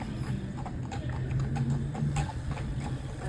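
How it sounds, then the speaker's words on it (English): A horse and buggy on a road, hooves clip-clopping in a steady, even rhythm at moderate distance, loud and clear over faint background noise, with no speech. "Horse and buggy."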